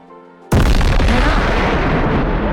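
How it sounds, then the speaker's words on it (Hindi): A single loud gunshot bang goes off abruptly after a quiet musical tone, followed by a long booming rumble that fills the rest of the clip. "धड़ाम, गोलियां चली।"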